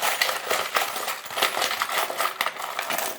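Tarot charms shuffled together, giving a continuous run of small metallic clinks and jingles, close and fairly loud, with no talking.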